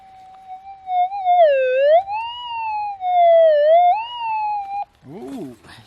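Minelab GPX 4500 metal detector with a Coiltek Elite 14 coil sounding over a gold nugget in quartz-rich pipe clay, a loud, clear warbling tone that rises and falls in pitch, then a brief wavering burst at the close.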